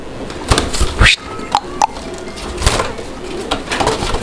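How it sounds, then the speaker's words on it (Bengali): Koka pigeons at a market coo in thin, flute-like calls, a few short calls rising over a busy background with occasional clatter and people talking nearby. "এগুলো বাসিরাজ কোকা একদম চিকন অ্যান্ড বাঁশির মতো সুর নিয়ে কিন্তু এরা ডাকে"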